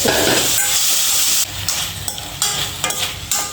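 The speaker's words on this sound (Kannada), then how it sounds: "ಸ್ವಲ್ಪ ಫ್ರೈ ಮಾಡ್ಕೊರಿ ಒಂದು 5 ನಿಮಿಷ ಫ್ರೈ ಮಾಡ್ಕೋಬೇಕ್ರಿ" Mushrooms fry in a pan with a loud, close, hissing sizzle that steadies after an initial burst, broken by several stirring scrapes.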